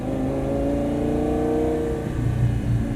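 Homemade turbocharged Lamborghini accelerating in second gear as the turbo boost comes on: a loud, continuous engine drone with layered tones holding steady and slowly shifting, heard close and alone.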